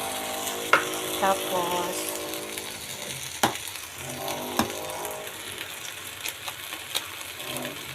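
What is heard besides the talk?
tokwa sisig frying and being stirred in a pan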